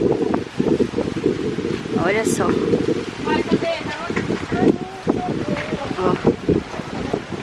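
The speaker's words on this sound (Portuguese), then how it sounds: "Que ventania." Strong wind gusts sweep across an open country property, rushing and buffeting the microphone in rough surges while people talk nearby over it.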